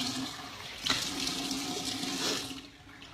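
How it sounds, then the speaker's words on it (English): Running water splashes steadily while face cleanser is rinsed off at a sink, a continuous close hiss with a brief louder burst, tapering away near the end. "I'm going to rinse that off."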